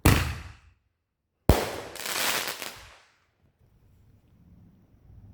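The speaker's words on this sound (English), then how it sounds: "I think Zal set off another one" Fireworks go off outdoors with two sharp, loud bangs, the second followed by a crackling, sizzling burst that fades into quiet background.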